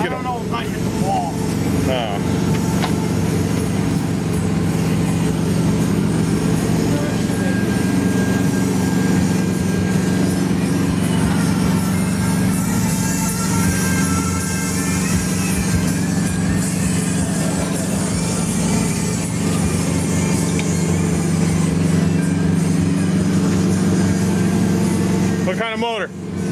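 A Peterbilt 386 big rig with a 500-horsepower Cummins ISX engine idling, a steady low diesel drone running throughout at close range, with people talking over it much of the time.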